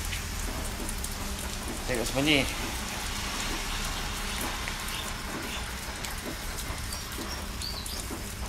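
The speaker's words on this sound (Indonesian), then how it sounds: "Ni dah hujan renyai-renyai ni." Light drizzle falling outdoors, a steady soft patter across the whole stretch, with someone speaking briefly over it.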